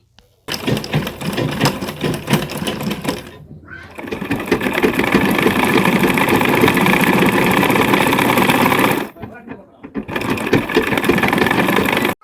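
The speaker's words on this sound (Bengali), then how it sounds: "মেশিনে আজকে সেলাই করতে বসেছি" A home sewing machine stitches loud and close in steady whirring runs, pausing briefly twice before starting again, with no voices.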